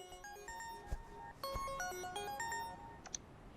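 A mobile phone ringtone plays a bright melodic tune of repeated tonal notes, moderately loud and alone, during a French-language TV drama scene.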